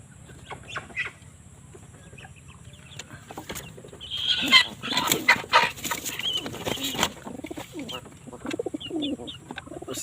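A chicken caught in a pigeon trapdoor in a racing-pigeon loft, with pigeons around it: scattered clucks and coos rise to a busier flurry of bird calls and wing flutters midway, close and moderately loud.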